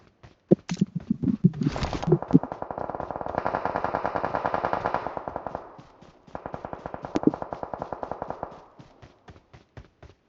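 Rapid automatic gunfire in the mobile battle royale game PUBG Mobile, a few sharp single shots followed by two long sustained bursts, loud and close with no talk over them.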